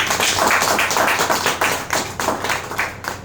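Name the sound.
applause from an audience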